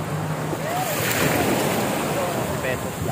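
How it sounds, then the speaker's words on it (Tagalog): Ocean waves rush and wash continuously at Puerto Azul beach in Ternate, Cavite, Philippines, with wind blowing across the microphone, while a person speaks briefly over the surf. "sarap naman ng mga palo ng alon"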